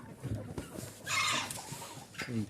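Hens fighting in a farmyard coop: a sudden flurry of harsh squawking and scuffling bursts up midway, with a shorter squawk near the end over low background noise.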